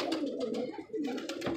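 Pigeons coo softly in two short bursts, close and fairly quiet, with no talking.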